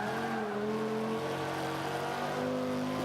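A 2005 Honda NSX in Forza 5 accelerates with a steady, continuous engine drone whose pitch climbs slowly, heard alone with no talk.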